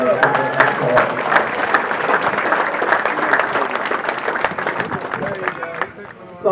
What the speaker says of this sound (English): So give our families a applause